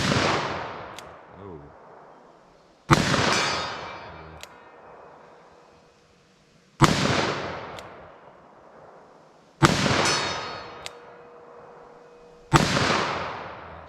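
.44 Magnum revolver shots crack out one at a time, five sharp loud blasts spaced a few seconds apart outdoors, each followed by a long rolling echo, with a brief exclamation between them.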